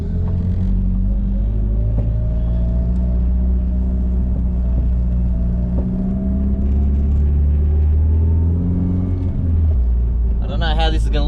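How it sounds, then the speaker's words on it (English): A Nissan S14 Silvia with upgraded suspension drives around the block, heard from inside the cabin as a steady, loud low engine and road rumble that holds throughout and eases slightly near the end. "take it for a quick drive around the block"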